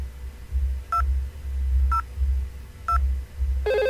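A VoIP desk phone dials out, producing three short evenly spaced tone blips about a second apart, then a longer multi-tone burst, fairly faint over a low background hum.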